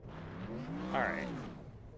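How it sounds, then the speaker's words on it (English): A race car in the iRacing video game does burnouts in the pits, its engine revving up and back down once, quietly, under a voice. "Len is doing burnouts in the pits."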